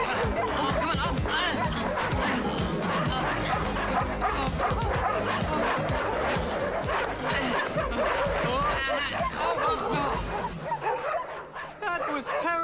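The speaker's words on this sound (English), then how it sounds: "I never want to see those dogs again." Several dogs bark, yip and whimper loudly in a frantic, continuous burst during a chase, while people shout and laugh over them, and the noise thins out at the very end.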